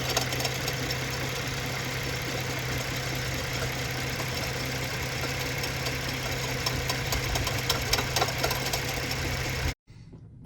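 Faulty car engine with a suspected timing chain problem runs steadily at idle, giving a continuous rough mechanical rattle and knock close to the recorder, with no talking, until it cuts off abruptly near the end.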